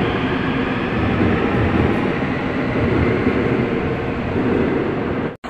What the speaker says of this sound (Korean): 저를 미금역까지 무사히 데려다준 신분당선 D103편성 열차